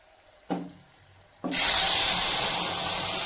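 Dried red chili hits hot oil for tempering: a brief clatter, then a sudden loud, sustained sizzle that hisses on without a break.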